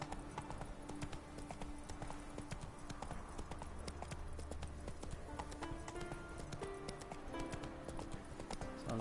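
Horse hooves clip-clopping in The Witcher 3, a steady, quiet run of rhythmic hoofbeats on hard ground under game ambience, with a voice talking faintly.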